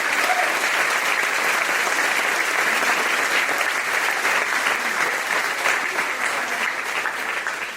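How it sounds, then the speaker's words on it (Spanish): A congregation at a church service applauds, sustained dense clapping from many hands filling the room at steady, fairly loud level throughout. "Fuerte el aplauso al Señor Jesús."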